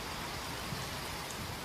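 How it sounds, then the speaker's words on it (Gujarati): A downpour in Bhilabhildi village, Gujarat, comes through as a soft, even wash of falling rain, faint and continuous over a brief moment. "ભીલાભીલડી ગામમાં ધોધમાર વરસાદ વરસ્યો."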